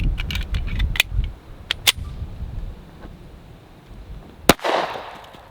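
A single sharp shot from a 10mm pistol loaded with Hornady 180-grain hollow point ammunition cracks loud and close near the end, set against quieter clicks and handling noises earlier on.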